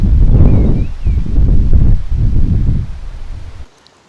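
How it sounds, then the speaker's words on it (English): Strong wind at Shropshire Golf Centre roars through trees and buffets the microphone in loud, surging gusts that rise and fall before cutting out abruptly near the end. "As you can probably tell in the background, the trees are blowing an absolute hoolie."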